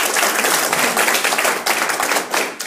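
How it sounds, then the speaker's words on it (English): A university lecture audience claps for a Maori Party co-leader, loud, close and dense, with many individual hand claps audible in a continuous burst that slightly thins out toward the end. "Give her a clap too."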